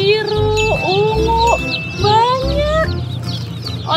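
Brightly dyed chickens at a market clucking and chirping close by in quick overlapping calls, with faint jingling and other voices in the background.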